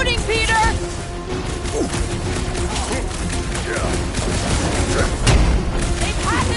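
Gunfire in the Guardians of the Galaxy video game: dense, continuous shooting mixed with crashes, booms and mechanical clatter, all loud and layered, with a sharp impact near the end.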